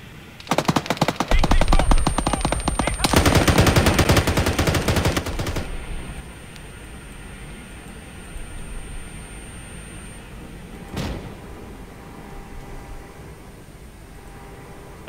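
Heavy machine gun fire in the military game Arma 3, rapid sustained bursts loud and close for several seconds, then stopping, with a single later shot and quiet ambient noise; a voice speaks briefly.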